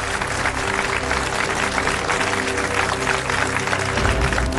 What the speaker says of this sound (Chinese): 掌声给他